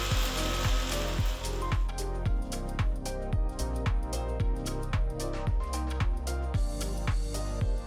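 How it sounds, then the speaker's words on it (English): An electric mixer-grinder pulverizes nuts, sugar and spices, including turmeric, into fine powder, running loud and close with a rapid rhythmic pulsing and a clattering rattle throughout. "Just grind everything together till you get a nice fine powder consistency."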